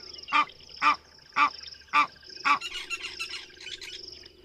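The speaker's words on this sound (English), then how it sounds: "You can hear that quack, quack, quack. That is them calling." Ducklings call near the water: five evenly spaced, clear quacking calls ring out one after another, then a quicker run of softer peeping chatter follows, with a faint steady background tone.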